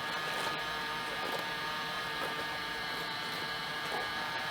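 A heat gun blows a steady, loud hiss of hot air onto RC tire strapping tape, the foam insert pulled out of a PL 3.8 Shockwave tire, a constant broadband roar with no pauses and no talk.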